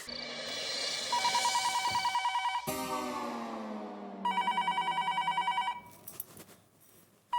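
Telephone bell rings late at night in a home in a Hindi sitcom, repeated loud trilling bursts with pauses between, music tones and a short gap near the end.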